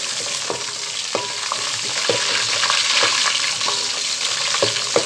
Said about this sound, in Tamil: பச்சை மிளகாய் போட்டு நல்லா வதக்கிக்கோங்க